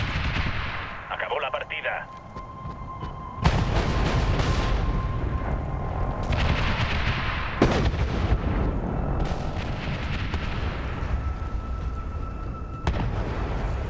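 Gunfire and artillery strikes in the video game Medal of Honor: heavy booming blasts and bursts of shots rumble on under radio chatter and game voices, with several sharp loud impacts.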